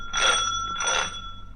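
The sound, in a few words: doorbell ringing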